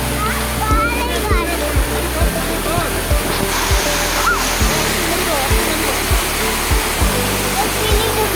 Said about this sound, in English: listen to the sound of water gushing over the rocks.